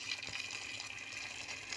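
Hot water poured from above onto raw meat in a cooking pot before parboiling, a steady close gushing splash that holds an even level throughout with no voices.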